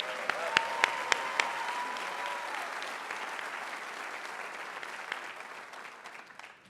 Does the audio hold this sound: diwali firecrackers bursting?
no